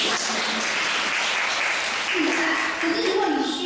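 Applause from an audience in a classroom, a continuous patter of clapping heard alongside people talking.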